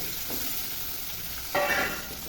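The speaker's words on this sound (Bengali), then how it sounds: "কেটে রাখা আলুগুলোকে দিয়ে ভালোভাবে নাড়িয়ে চাড়িয়ে ভেজে নিতে হবে" Cut potatoes stirred and fried in oil with cumin produce a low, constant sizzle, broken by a soft spoon scrape early on and a louder stirring rustle midway.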